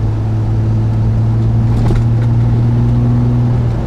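A 1973 Triumph TR6 engine drones steadily from inside the moving car, a close, loud low hum with a shift in pitch as it comes back down to third gear, with no talk over it.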